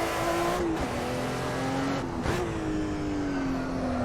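A Porsche 935 race car in the Assetto Corsa racing game gives a loud, steady engine drone whose pitch drops briefly twice, like quick gear changes. The tires slide through a corner, and no one talks.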